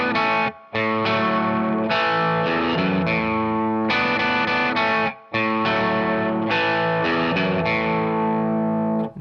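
Distorted electric guitar plays the short repeating bass-line riff from a song, loud and close, with brief gaps between phrases and effects adding a chorus-like shimmer.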